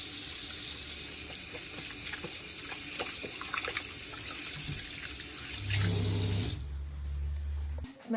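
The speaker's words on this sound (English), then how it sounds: "So just washing our hands before we start the treatment" Hands being washed with soap under a running tap at a sink, a steady splashing flow with a louder gush near the end before the water cuts off.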